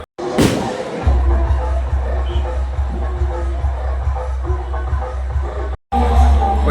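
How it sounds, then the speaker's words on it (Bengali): Firecrackers burst at a village Kali puja, heard as a series of loud, sharp bangs close by over a steady rumble of crowd noise, with a brief drop to silence near the end. "এই বাজিগুলো বেশ ভালোই ফাটছে"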